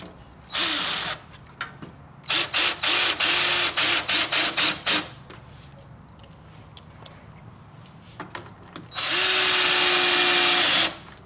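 A cordless power drill drives screws on a truck headlight during a Spyder LED halo projector install on a 2009-2014 Ford F150, with short bursts of whirring, a rapid run of stop-start pulses, then one longer loud spin.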